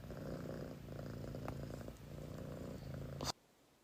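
A pet cat purrs steadily and close in a low, rhythmic rumble for about three seconds, then stops abruptly into quiet.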